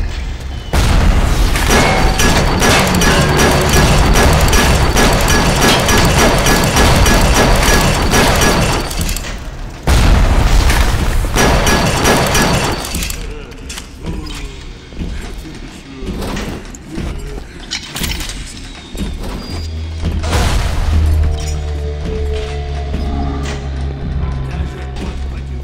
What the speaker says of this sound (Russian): Он еще стреляет.